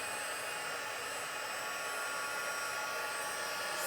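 A heat tool melts white embossing powder on a stamped thank-you card, giving a steady, loud, hair-dryer-like rush of blowing air that holds unchanged throughout, with no talking.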